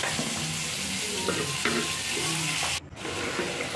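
A thin hilsa fish curry boils in a covered pot with a steady, dense bubbling hiss close by. The hiss dips briefly near the end.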